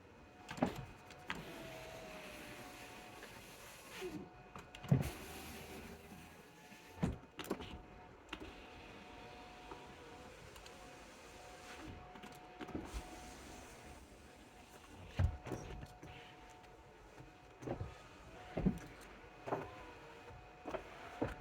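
Power windows on a Chrysler 300 run up and down repeatedly during calibration, each motor whir ending with a soft thunk as the glass stops, fairly quiet and close with short pauses between runs.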